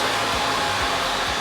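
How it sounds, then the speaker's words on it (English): Steady, loud hair blow dryer drying a man's hair with mousse during a barbershop styling session, a continuous close whoosh with no talk. "use a little bit of a mousse just to give his hair some volume while we're blow drying"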